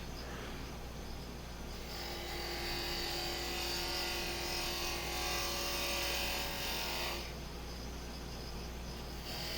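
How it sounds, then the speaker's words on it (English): Wood lathe spinning a whiskey smoker blank while a spindle gouge trues it up, giving a steady motor hum under a continuous hissing cut that swells and eases, fairly faint. "So I'm using a spindle gouge"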